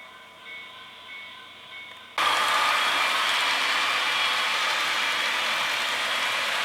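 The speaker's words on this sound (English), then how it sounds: "A little bit of train running this time" A model railroad train running on a layout: after a quiet opening with faint mechanical whirring, a loud, steady rushing and rattling rumble starts suddenly and continues evenly to the end.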